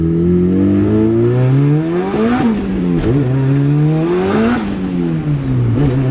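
A loud turbocharged Honda Civic with VTEC and an open exhaust revs hard toward 9,000 rpm and climbs through several gears, each pitch rise cut by a quick drop at the shift, with a whistling turbo whine overhead.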